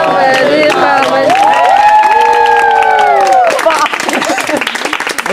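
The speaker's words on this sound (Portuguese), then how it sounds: "Uma salva de palmas" Party guests at a quinceañera clap and cheer together, loud and close, with sustained shouted and sung voices riding over the crowd before the noise thins out toward the end.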